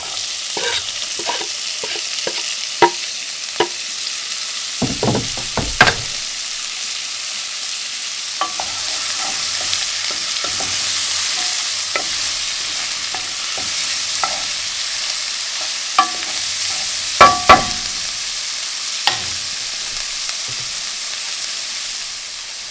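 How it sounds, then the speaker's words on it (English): Chopped onion sizzles in a frying pan in leftover bacon fat for German potato salad, a steady close frying hiss broken by occasional scraping stirs, with no talking. "I took the bacon out and I'll put my onion in. I want to make our onion translucent."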